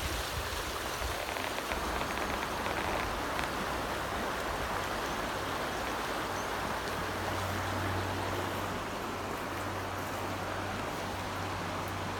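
A river flows past a brushy bank with a cabin across the way, giving a steady, dense rushing wash like heavy rain that holds evenly throughout with no voices.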